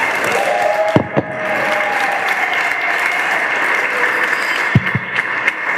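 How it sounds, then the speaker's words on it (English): A large audience gives loud, sustained applause and a standing ovation after a speech at a forum gathering, a dense wash of clapping with a few heavy thumps and knocks, close and continuous. "A big round of applause and a standing ovation."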